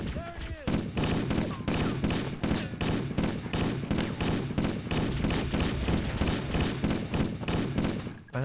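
Sustained automatic gunfire in Halo: Combat Evolved, a loud, rapid, unbroken stream of shots lasting several seconds, with a brief pause near the start and the end.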